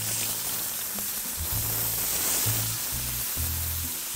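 Catfish searing in olive oil in a pan, a steady broadband sizzle, close and fairly even throughout, with a low hum running beneath it and no talking.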